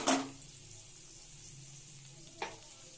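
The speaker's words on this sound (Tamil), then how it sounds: "தக்காளி போட்டு நல்லா வணங்கணும்" Tomatoes frying in a pan for an okra tamarind curry, a soft continuous sizzle with a sharp scrape of a spoon at the start and another brief stir near the end.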